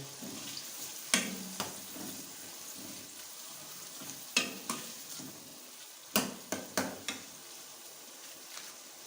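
Chopped green chillies are stirred into chicken white karahi, bringing a soft background sizzle and sharp, repeated spoon knocks and scrapes against the pan that come in small bursts, near and unaccompanied by speech.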